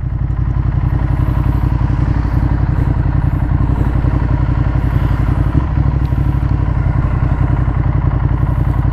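A 2015 Ducati Monster 1200S with Öhlins suspension, ridden in urban mode, gives a steady, loud, close engine throb with a fast pulsing rumble, constant throughout with light clatter and no talk.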